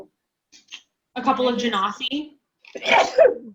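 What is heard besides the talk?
sneeze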